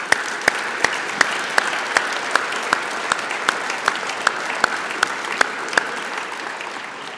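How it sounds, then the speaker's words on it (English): An audience at a sports hall of fame induction ceremony claps in a steady round of applause, an even wash of many hands with a few sharp, close individual claps standing out rhythmically. "Let's give them a round of applause."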